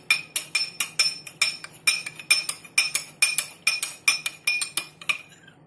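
Cornflour being stirred into water in a glass, a rapid regular series of bright clinks as a spoon strikes the glass, close and alone, stopping near the end.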